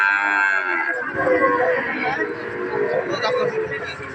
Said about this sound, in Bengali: আমরা দেখছিলাম অনেক সুন্দর সুন্দর বাছুর গরুগুলি।